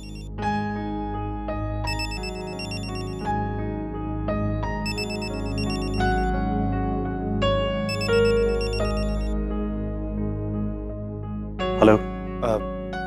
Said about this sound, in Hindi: आशु, आशु सिद्धार्थ का फोन है।